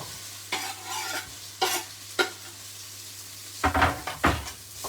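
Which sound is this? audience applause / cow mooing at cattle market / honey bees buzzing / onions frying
onions frying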